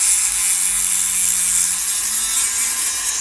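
Spinning fishing reel turned by hand, its anti-reverse ratchet giving a fine, steady clicking that runs throughout, close and fairly loud with no talking.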